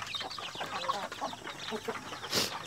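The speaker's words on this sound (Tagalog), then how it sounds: "yung mga sisiw" Native chicken chicks in a free-range backyard pen give soft, rapid, high peeps that overlap continuously, with faint clucking mixed in and one brighter chirp near the end.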